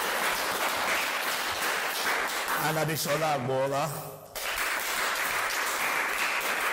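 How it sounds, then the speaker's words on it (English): Audience applause fills a studio during an episode of an African reading reality competition, steady and full throughout, while a host's voice cuts in over it midway. "Round of applause for him."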